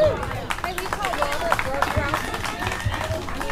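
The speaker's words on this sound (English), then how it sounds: "Big round of applause for Billy Joe." Audience applause at an outdoor bass fishing seminar under a pavilion, a steady wash of claps and crowd murmur lasting several seconds, with voices chattering underneath.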